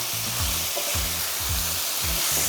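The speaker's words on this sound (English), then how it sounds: "I want to cook that off for another minute or so until the beans have softened a little." Turkey mince and beans sizzle steadily in a hot pan for turkey san choy bow, a loud continuous frying hiss with soft periodic stirring scrapes.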